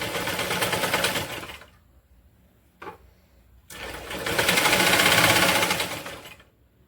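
A sewing machine stitches folded waste cloth into a doormat, its close, steady mechanical whirr running in two long bursts separated by a quiet pause and a single short clatter.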